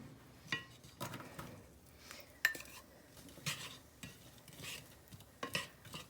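Onions sauté gently in olive oil and bacon grease, a soft low sizzle under repeated scraping and clinking of a spoon against the pot, quiet and close, with no speech.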